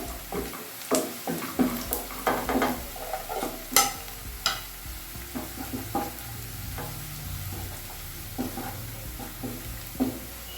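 Onions browning lightly in a pan for banjara chicken curry, stirred with a spoon that gives repeated scraping clicks over a low, continuous sizzle, with no talking.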